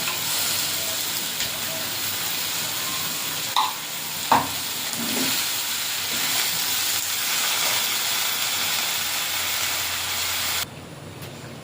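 Leafy greens with salt cook under a lid in a kadai, giving a steady soft hiss and sizzle with a couple of brief clanks of the pan or lid partway through.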